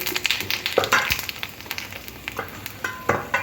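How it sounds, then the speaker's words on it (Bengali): Crackling sizzle of cumin seeds in hot oil left from frying fish, close by, with irregular pops and brief scraping stirs, no talking. "ওই মাছ ভাজার তেলের মধ্যে গোটা জিরে ফোড়ন দিয়ে দেব।"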